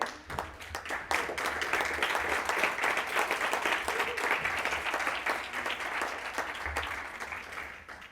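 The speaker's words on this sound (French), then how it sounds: "on lui doit bien un tonnerre d'applaudissements encore une fois" Sustained applause from a crowd at a hackathon closing and awards evening, thick and even from start to finish before tapering slightly at the end.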